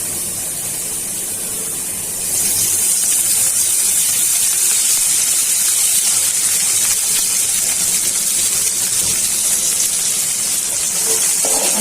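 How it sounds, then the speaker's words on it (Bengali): Onions frying in hot oil in a pan for an eggplant fry dish, a loud, steady close hiss and spray of sizzling that swells after a couple of seconds and holds without speech. "পেঁয়াজটা ভাজা হওয়ার জন্য তেল দিয়ে দিচ্ছি।"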